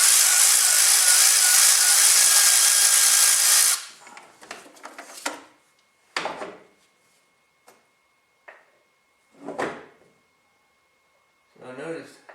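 Manifold bolts are loosened from the engine of an HMMWV M998A1. A few seconds of loud, continuous mechanical whirring are followed by scattered metallic ticks and scrapes, with a voice talking at times.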